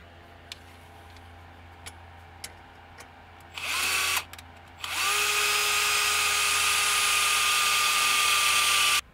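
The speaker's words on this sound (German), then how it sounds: "So, und jetzt bohre ich, schraube sie zusammen und dann kommen sie rein." An electric drill bores holes for bonding straps in the cramped, warm interior of a boat, opening with faint ticking, then a short whine, a pause, and a long, loud, steady drilling run close by.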